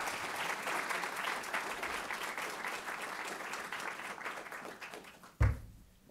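An audience applauds steadily at a higher-education talk, welcoming speaker Amanda Lenhart. The sustained clapping slowly thins, then a sharp thump is heard near the end.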